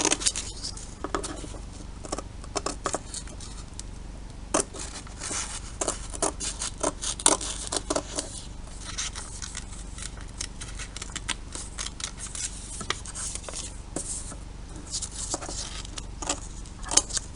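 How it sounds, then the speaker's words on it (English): Scissors snip steadily through paper or card, cutting out a Sol De Janeiro perfume logo for a DIY craft: rapid, uneven crisp clicks and rustles, close and fairly loud, with no talking. "we're trimming out the logo"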